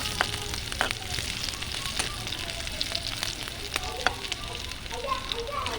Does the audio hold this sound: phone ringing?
no